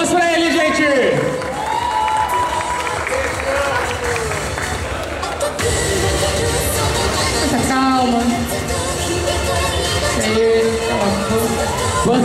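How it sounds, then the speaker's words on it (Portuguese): Audience applause and cheering at a winter cosplay parade, a sustained dense wash of clapping and crowd noise under music and an announcer's voice. "Palmas pra ele, gente!"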